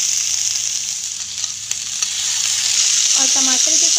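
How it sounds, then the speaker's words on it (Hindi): Vegetables for hotel-style sambar frying in a pan, a steady close sizzle throughout with a few stirring clinks and scrapes near the end, no voices. "यहाँ पे हम हल्की सी सब्ज़ी को फ्राई कर लेंगे"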